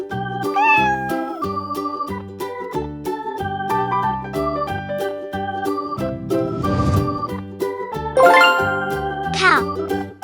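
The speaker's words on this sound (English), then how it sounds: "Cat." A cat meows briefly over a bouncy children's music track with chimes and a tinkling melody; a voice may also briefly come through.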